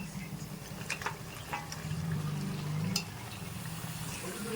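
Masala frying in a pan as country chicken goes in, a steady soft sizzle with light stirring and scraping, faint and close, no talking.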